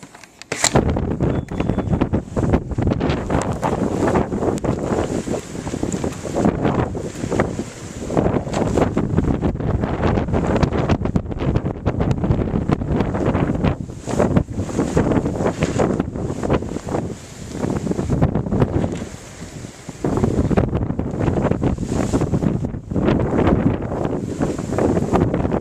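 Blizzard wind gusting outdoors, a loud sustained roar buffeting the microphone, swelling and easing in waves with brief lulls.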